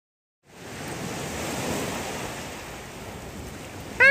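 Waves wash steadily onto a Cornish beach in a broad, even roar of surf mixed with wind, starting after a brief silence and ending in a sudden louder burst.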